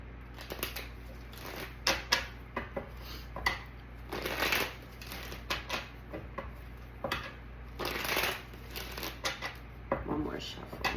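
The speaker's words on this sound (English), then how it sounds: "One more shuffle." Tarot cards shuffled by hand at a reading table, giving repeated soft riffling and slapping bursts at an uneven rhythm, close and fairly quiet, with a few pauses between shuffles.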